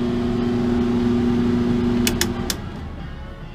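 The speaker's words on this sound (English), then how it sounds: "Dewalt power station runs the microwave, no problem." A microwave oven running on a Dewalt power station hums steadily and loud, then three sharp beeps sound near the end as the hum cuts off.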